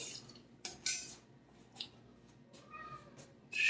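A house cat meows in a home kitchen, a few short bright calls scattered among clinks of cutlery and dishes, close by with no talking.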